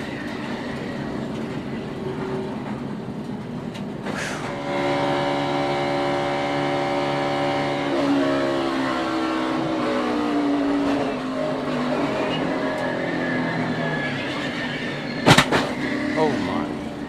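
NASCAR Sprint Cup cars at the Daytona 500 wreck in a multi-car pileup, one slamming hard into the SAFER barrier: a roaring pack of engines with descending whines, then a sharp loud impact near the end.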